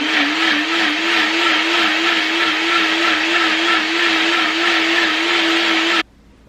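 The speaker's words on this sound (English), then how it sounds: "All right, so my blender's off." A blender blending salsa verde whirs steadily at a loud, constant pitch for about six seconds, then cuts off abruptly into near silence.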